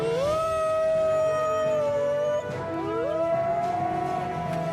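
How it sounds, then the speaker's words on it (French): A wolf in a cartoon howling to call its pack: two long, loud, sustained howls, the second rising after a brief break, close and alone with no talking. "C'est Wanji qui appelle la meute."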